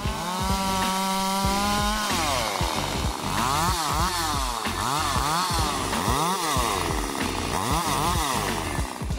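A chainsaw, an MS881 on a milling rig, cuts maple wood into uniform planks, running loud and close with a steady high whine and rhythmic rising and falling bogging as the chain bites through the log.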